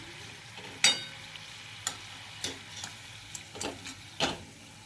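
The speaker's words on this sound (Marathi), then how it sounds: "अशाच पद्धतीने आपण सर्व करंज्या तळून घेऊया फोल्डर रंगापर्यंत आपल्याला फ्राय करायच्या आहेत" Karanji pastries deep frying in oil give a faint, steady sizzle, broken by several sharp crackles and splatters spread unevenly across a few seconds.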